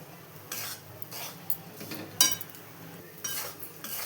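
A spoon stirring ground sugar into semolina for rava laddu makes soft scraping swishes in separate bursts, with one sharper metallic clink against the vessel partway through.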